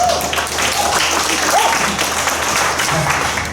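Audience at Porcfest, a libertarian festival gathering, clapping in a loud, continuous wash of applause, with faint voices and a brief whistle-like tone mixed in.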